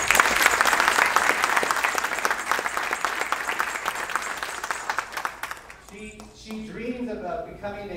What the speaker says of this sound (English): So please give Lena a round of applause.